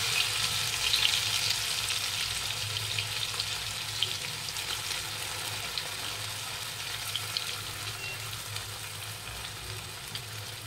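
Hilsa fish pieces frying in hot oil in a wok with black cumin seeds, a steady, even sizzle that carries on throughout without talking.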